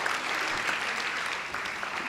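An audience at a legal practice seminar claps, a short burst of dense, steady applause filling the room.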